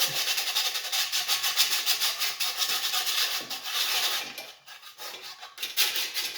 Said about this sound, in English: So I'm just gonna kind of sand on it.